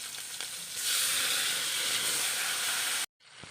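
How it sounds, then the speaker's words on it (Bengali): Green chilies and chopped tomato hit hot oil left from frying small puti fish, setting off a loud, steady sizzle that swells suddenly and holds without a break, then cuts off abruptly near the end. "আমি ওই তেলে দিয়ে দিচ্ছি চেরা কাঁচা লঙ্কা আর এই যে টমেটো কুচি"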